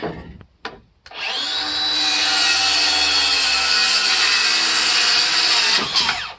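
A battery-powered saw fitted with a plywood blade cuts through a wooden beam in one long, loud, steady whine of a few seconds, with short clunks at the start and end.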